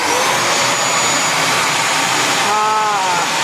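An inexpensive electric home blower vacuum cleaner blowing dust and a mat away: a loud, steady, rushing whoosh with a high whine that runs the whole time without a break.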